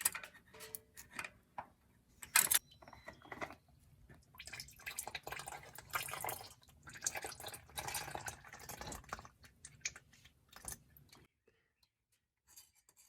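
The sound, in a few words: used motor oil dripping from oil filter into drip pan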